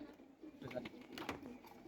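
A female tournament-flown pigeon coos softly in a few low, throaty pulses, close by but quiet, with indistinct background noise and human presence.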